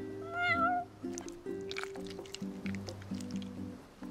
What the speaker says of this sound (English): You're one spoiled cat.